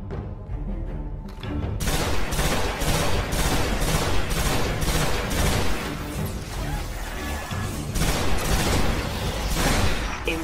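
A heavy scorch cannon in the video game Destiny fires in rapid repeated blasts, a dense, loud barrage of roaring shots that rolls on continuously.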